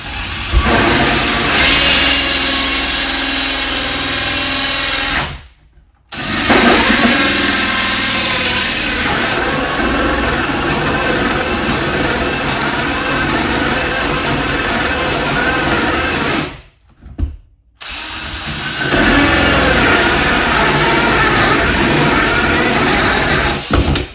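A power drill whines loudly and steadily as it bores a larger hole into a wall for a vanity light installation, stopping briefly twice before starting again.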